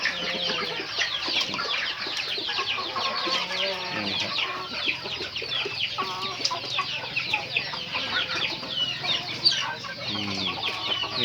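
Many chickens clucking and chattering close by while being fed in the evening, a busy, continuous flock sound with overlapping calls and occasional louder squawks.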